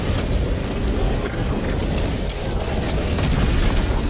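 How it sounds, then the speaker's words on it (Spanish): Explosion in the Helldivers 2 video game: a dense, rumbling blast of low noise with crackling debris, loud and sustained through the whole stretch, no voices over it. "Y me mató la explosión, tío."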